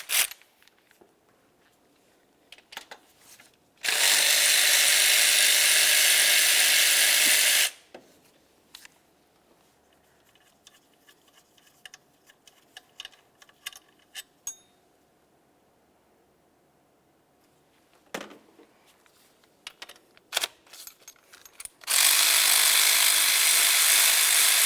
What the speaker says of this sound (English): we can continue on removing our three 13mm headed bolts